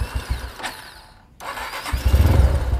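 A motorcycle or small vehicle engine is cranked by its electric starter and catches, settling into a loud, close, throbbing idle with no voices.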